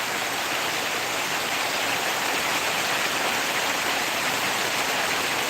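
Torrential rain pouring down in a loud, constant roar of white noise, close and uniform from start to finish with no talking.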